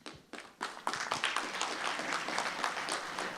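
Applause from an audience at the opening of the Seoul Forum 2020 starts with a few scattered claps and quickly swells into dense, steady clapping that carries on to the end, moderately close, with no one talking.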